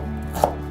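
A knife chopping onion on a cutting board during home cooking, heard as a single crisp chop in the middle over a steady low background hum, with no talking.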